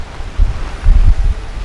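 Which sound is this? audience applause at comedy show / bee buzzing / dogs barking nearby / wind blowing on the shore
wind blowing on the shore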